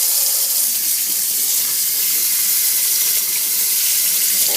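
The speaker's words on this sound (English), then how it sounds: "So we will rinse it with cold water." Cold tap water runs steadily as tea-dyed Aida cross-stitch fabric is rinsed under it, a continuous close splashing hiss with no pauses.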